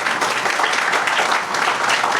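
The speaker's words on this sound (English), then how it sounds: "We can give them a round of applause." A gathered crowd at a fire pavilion dedication at a college campus applauds the building contractors, a loud, close, continuous burst of clapping with no voices over it.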